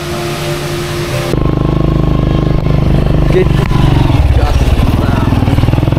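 A motorcycle engine idles and then fires up louder on a hiking route up Mount Raung in East Java, a close, steady rumbling putter that runs on for several seconds with a clatter.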